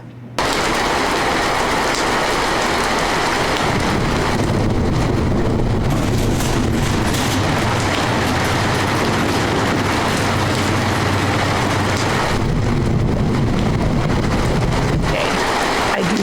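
Layered theatrical sound effects of rain, thunder and a passing train form a dense, loud, continuous roar that swells and rumbles low for most of the stretch before thinning near the end, with no voices.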